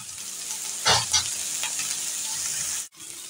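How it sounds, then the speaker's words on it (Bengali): Sliced bitter gourd fries in a pan with onion, giving a loud, steady sizzle marked by a few sharp clattering stirs. The sound cuts off abruptly near the end, then the sizzle returns. "করলাটাকে কিন্তু আপনারা কিছুক্ষণ পরপরই নাড়াচাড়া করবেন।"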